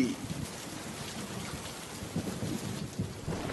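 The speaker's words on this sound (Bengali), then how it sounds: "কতদিন পর বৃষ্টিতে ভিজছি" Steady heavy rain with rumbling thunder in a cartoon village downpour, a continuous dense hiss with low rolls throughout and no voices.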